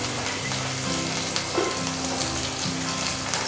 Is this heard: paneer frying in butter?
yes